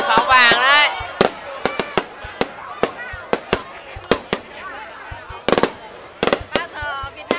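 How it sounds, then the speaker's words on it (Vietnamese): Golden fireworks go off in rapid sharp bangs and crackling bursts, some whistling rises, loud and close, while people talk and shout nearby. "Giờ đến pháo vàng đấy."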